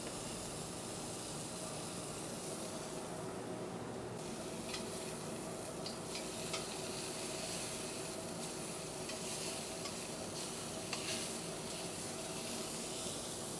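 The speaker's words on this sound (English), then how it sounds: "We're going to want to brown the steaks on all sides, top, bottom, and around the edges." Filet mignon steaks sear in a very hot pan with a steady, close sizzle and hiss, with a few sharper crackles and pops through the middle and no talking.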